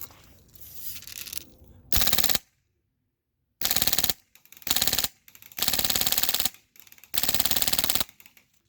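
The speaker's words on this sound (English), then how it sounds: "let's see if we get some shooting out of this" An airsoft gun fitted with a PolarStar Jack engine fires in rapid full-auto bursts outdoors. Five bursts of about one to two seconds each are loud and close, with short silent gaps between them.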